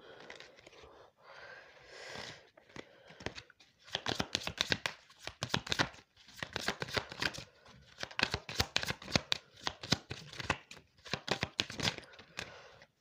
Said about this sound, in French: On va essayer de voir si on a une autre carte qui vient.